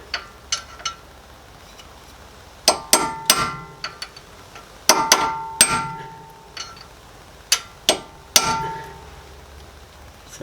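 A hammer peens over a nut on the CV shaft of a 2005 Subaru Forester, with about a dozen sharp metallic clangs struck singly and in quick clusters, loud and close, with no talking.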